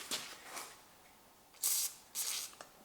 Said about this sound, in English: I recommend that we install in here this lubrication spray like this